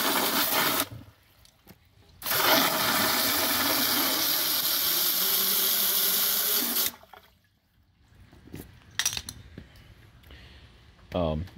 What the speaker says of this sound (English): See how much of the water just goes right up